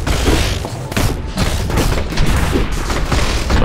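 Dense, continuous gunfire and explosions rage in the deathmatch shooter game Cobalt Alpha, with loud, rapid bursts and booms overlapping throughout and no voice on top.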